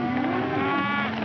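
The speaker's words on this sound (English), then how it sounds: "I want you to take these cattle pretty fast out of this section and slow them down." A cattle herd lows in a long, drawn-out moo, a single sustained bovine call heard close and fairly loud with no speech over it.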